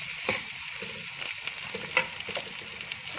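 Chopped, washed onions sizzle and crackle steadily in hot oil in a pan for a chicken and potato curry, with a few louder stirring scrapes and pops standing out above a continuous hiss.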